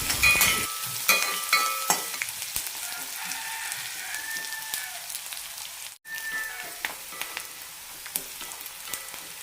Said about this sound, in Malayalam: സവാള ലൈറ്റായിട്ടൊന്ന് ചോർന്ന് കിട്ടണം അതുവരെ വഴറ്റാം